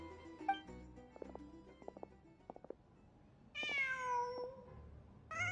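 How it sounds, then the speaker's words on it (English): A cat in Genshin Impact gives a few soft chirps and trills, then a louder drawn-out meow, all fairly close with no talking. "Just a cat."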